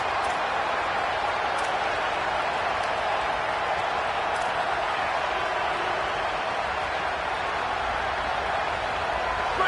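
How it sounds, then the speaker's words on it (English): A home stadium crowd at an Oregon vs Clemson football game keeps up a continuous, loud, wide roar, dense and unbroken throughout, heard at a distance across the stands. "This crowd ready to make its presence known."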